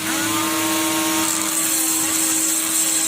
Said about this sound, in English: So I got a Dremel with a grinding wheel, and this is a grinding wheel on my Dremel, and that'll take material off.